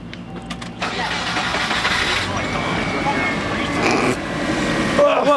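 A car engine cranks and catches, then runs at a steady idle during a radiator replacement job, loud and close, with people talking over it.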